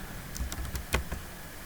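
Individual keystrokes tap on a computer keyboard while numbers are entered in Excel, about six crisp clicks in an uneven rhythm, close and fairly quiet, with no talking.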